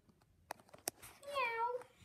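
A cat meows once, a drawn-out rising and falling call, close by, after a couple of soft clicks and handling sounds.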